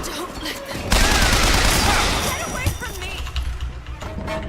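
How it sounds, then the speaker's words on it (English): Shotgun fire in the video game Bioshock Infinite, with dense, loud, overlapping gunfire blasts in a chaotic combat scene alongside shouting voices. "Is that a shotgun?"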